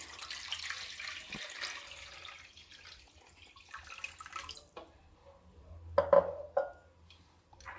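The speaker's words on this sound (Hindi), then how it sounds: "ये ठंडा पानी हम इसमें डालेंगे।" Cold water pours and trickles into a container, fading to faint splashes and a few clinks near the end.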